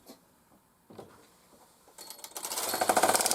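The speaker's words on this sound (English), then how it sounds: "Move the connected carriage from right to left." Brother KR 830 knitting machine carriage with ribber attached sliding right to left across the needle bed, starting with faint clicks and building into a loud, rapid rattling clatter.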